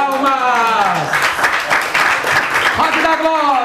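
A church congregation claps hands during a service in Florida Paulista, São Paulo, a brief burst of dense clapping in the middle with a preacher's voice before and after.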